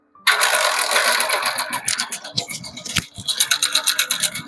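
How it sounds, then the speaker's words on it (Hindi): An old-model Hero Splendor Plus motorcycle with a noisy timing chain starts up, then idles with a harsh, rapid rattling and ticking that pulses unevenly and stays loud and close throughout. "इसका टाइम इंजन का इतना ज्यादा गंदा आवाज है, पहले मैं आपको आवाज सुनाता हूँ। गाड़ी स्टार्ट कीजिएगा।"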